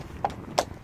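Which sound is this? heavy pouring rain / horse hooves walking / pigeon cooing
horse hooves walking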